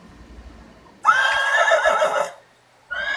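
A horse gives a loud, nearby whinny that lasts about a second, drops away to near silence, then starts a second neigh, with faint background noise before the first call.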